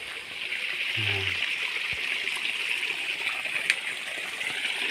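Thick water from a waterfall and stream rushes in a steady, loud hiss that fills the scene without letup, with a brief low hum and a faint voice near the start.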